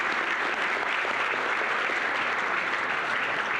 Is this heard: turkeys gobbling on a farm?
no